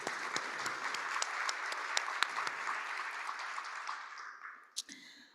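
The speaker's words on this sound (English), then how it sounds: "let's clap it up for our community storyteller" A room of people claps for a community storyteller at a democracy summit, a steady applause with a few sharper individual claps standing out, tapering off over the last second with a brief knock.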